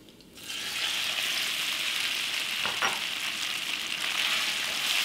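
Potatoes hit hot oil with cumin seeds, bursting into a loud, steady close sizzle after a quiet first half second, with a brief spatter partway through.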